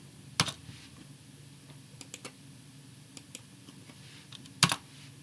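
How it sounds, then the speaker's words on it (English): Computer mouse clicks and Enter key presses at a desk, sounding as a few sharp, isolated clicks spaced across a quiet background, with two louder taps near the start and end. "mouse down slowly, click a point here, let go, press enter"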